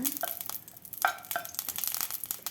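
Semolina roasted dry in a pan for upma gives soft, scattered scraping and stirring sounds with faint crackles, close and quiet, with no talk.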